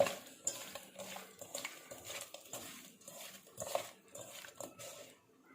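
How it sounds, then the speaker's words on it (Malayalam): Sardines being mixed by hand with turmeric, chili powder and salt for a pickle, with soft, irregular scraping and light clinks of a dish. The sounds stay faint and intermittent in a quiet room, with no talking. "ഇനി നമുക്ക് നന്നായിട്ടൊന്ന് മിക്സ് ചെയ്തെടുക്കാം"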